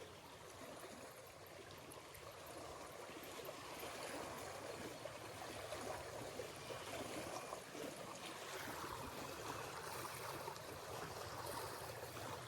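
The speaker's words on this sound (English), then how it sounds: "those waves are going to go crazy for the next 20 minutes because that wake boat had to go by" Small waves from a passing wake boat lap steadily against a riverbank during early morning fishing, a continuous watery wash and trickle that swells slightly louder partway through.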